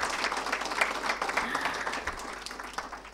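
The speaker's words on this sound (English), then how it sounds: "can we have a huge round of applause for the Haqdarshak family?" An audience at a foundation day celebration gives the Haqdarshak family a loud, sustained round of applause, a thick wash of clapping that runs throughout and eases slightly toward the end.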